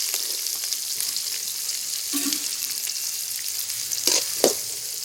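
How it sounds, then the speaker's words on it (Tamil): Chopped onions fry in hot oil for tomato rice, a steady close sizzle with occasional stirring scrapes and a couple of sharper clatters near the end, no voices. "நல்லா எண்ணெய் சூடாகிடுச்சு இப்போ அரிஞ்சு வச்சுருக்க வெங்காயத்தை சேர்க்கலாம்"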